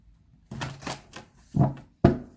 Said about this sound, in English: These cards are super hard to shuffle.